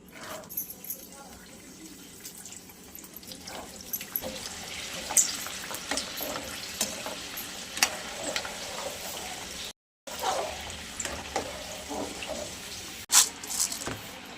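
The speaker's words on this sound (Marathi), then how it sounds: "आता हा वाटाणा टाकून घेऊयात लालवाला" Red peas fry in hot oil, a continuous crackling sizzle with scattered pops and scraping stirs, with a brief dropout near the end and someone speaking intermittently over it.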